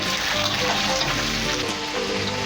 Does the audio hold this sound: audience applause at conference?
no